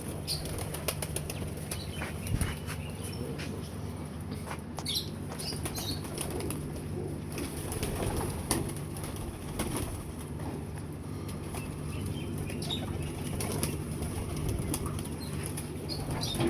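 Teddy pigeons flutter and flap their wings repeatedly over a steady background hum, with soft coos and occasional chirps mixed in.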